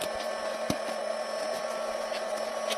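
A steady, even whir of a hair dryer blowing continuously, with a few faint clicks and taps over it.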